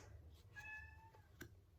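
A domestic cat gives a short, faint meow, a single drawn-out tonal call followed by a brief squeaky chirp, against quiet room tone.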